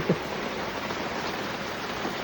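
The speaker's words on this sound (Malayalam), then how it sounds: "നല്ല മഴയാണ്" A brief stretch of dense, even rain noise, steady hiss throughout with one small knock near the start.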